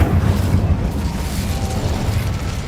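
A loud, rumbling fiery blast from the Incendio fire spell in the Hogwarts Legacy video game, a sustained low boom that fills the whole moment with no talking.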